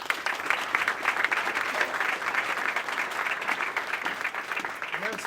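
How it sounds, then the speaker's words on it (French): Sustained applause from an audience gathered inside an administrative building for a ministerial reception, dense and steady clapping filling the room throughout without pause. "que je vous invite à applaudir"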